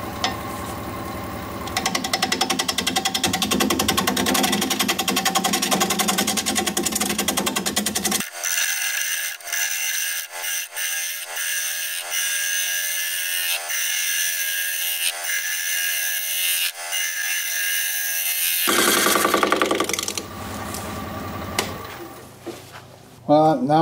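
A wood lathe turns a round weeping birch bowl at about 650 rpm while the bottom is flattened, giving a steady machine drone with tool chatter and scraping that thins out midway, then returns loud and continuous.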